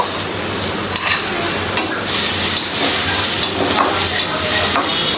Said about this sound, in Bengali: এখন সুন্দর করে ভেজে নিব।